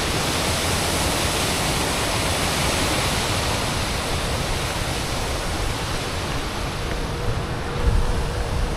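Water cascades over rocks in a mountain waterfall, a steady loud broadband rush that fills the scene without pause.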